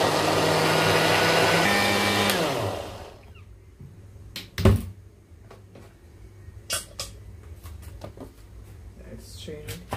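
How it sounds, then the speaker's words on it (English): A blender whirs loudly while blending fruit juice with aloe vera, a steady motor drone that runs for about three seconds and then cuts off, followed by scattered clatter and handling knocks. "I'm gonna blend this."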